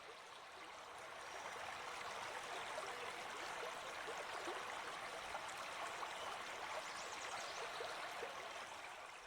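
A river flows gently around rocks and bends in a steady, even wash of running water that swells in over the first second and then holds constant, with no voices.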